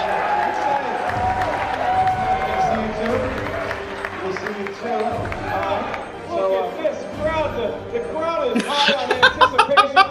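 An excited crowd at a live Schmoedown trivia competition claps and cheers in a dense, steady roar, with voices talking over it and a burst of sharp, rhythmic claps near the end.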